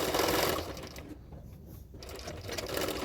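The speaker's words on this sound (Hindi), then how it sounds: "और अस्तर की फैब्रिक जो है उसके किनारे किनारे पे सिलाई करना है।" A sewing machine runs along the edges of lining fabric for a double katori blouse: a close, steady hum that pauses briefly in the middle and then starts again.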